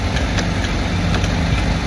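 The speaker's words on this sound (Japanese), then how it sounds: "じゃあ実際にちょっとエンジンかけてやってみましょう。" A Honda CBR1000RR-R motorcycle engine, adapted as a hand-controlled bike, idles at Suzuka Circuit with a steady, loud, close rumble and faint rhythmic pulsing, no voices heard.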